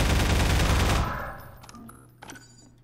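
A dense burst of rapid gunfire in the video game Half-Life 2 roars for about a second, then fades into a decaying echo with a few faint shots and mechanical clicks.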